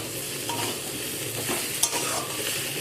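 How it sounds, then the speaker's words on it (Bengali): Pumpkin and pointed gourd vegetables being stirred in a pan, a steady scraping and faint sizzle with a brief louder clink near the middle, close and alone without talk. "এখানে সব কিছুকে নাড়াচাড়া করতে করতে সবজি প্রায় আমার এই দেখুন সেদ্ধ হয়েই এসেছে"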